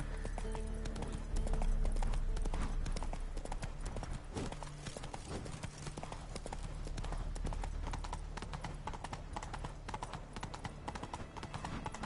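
A horse's hooves clip-clop in a steady, rhythmic trot in The Witcher 3, loud and continuous throughout, over a constant background of game ambience.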